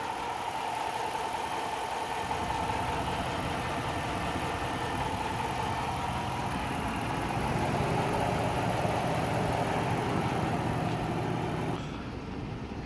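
A 2006 Dodge Charger R/T with the 5.7L HEMI V8 idles steadily up close in the open engine bay, an even low rumble with a faint ticking texture, slightly rising partway through and then dropping near the end.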